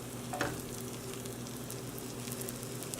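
Spinach and mushroom omelette frying in a pan, a steady soft crackling sizzle with a brief utensil scrape near the start, close and quiet.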